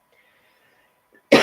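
A single sharp, loud cough bursts out at the very end after near silence, from a person who has had a cough for over a week.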